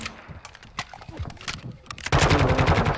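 Video game gunfire crackles in bursts of rapid shots, then swells into a loud, sustained barrage of continuous firing in the last second, close and dense.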